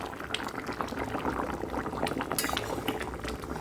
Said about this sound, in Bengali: ঢাকনা দিয়ে আমি 7 থেকে 10 মিনিট মতো জাল দিলাম।